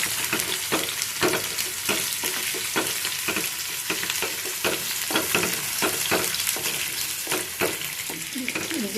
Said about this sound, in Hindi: जीरा प्याज और लहसुन इसको थोड़ा सा ब्राउन होने दे रहे हैं।